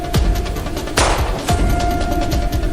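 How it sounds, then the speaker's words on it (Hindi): Gunfire during a gang shootout: a loud burst of shots at close range, with several sharp cracks spaced across the moment and a heavier blast near the middle. "गोली की आवाज तो आ रही है सर"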